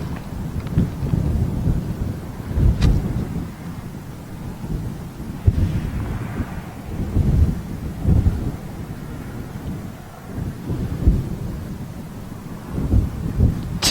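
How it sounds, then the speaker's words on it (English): Stiff breeze gusting across the open apron at Toulouse airport, a rough, rumbling wind buffeting the microphone in uneven surges and lulls, loud and close, with no voices. "It's quite a stiff breeze, but it's not cold."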